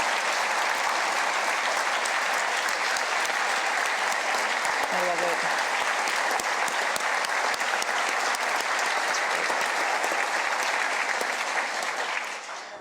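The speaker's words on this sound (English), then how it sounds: "Please give them a round of applause for allowing us to tell their story." A crowd at the 2024 South Dakota State of the State address applauds loudly and steadily for a long stretch, with a brief voice cutting through midway before the clapping tapers at the end.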